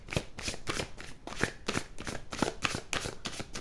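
A deck of oracle cards is shuffled up close, a steady run of crisp riffling flutters repeating in quick, even bursts with no voice over it.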